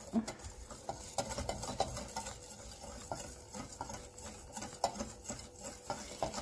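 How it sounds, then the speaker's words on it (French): Brioche dough being mixed in a bowl, a continuous soft sticky stirring and patter with occasional light knocks of the utensil, close and steady throughout. "Et je mélange bien"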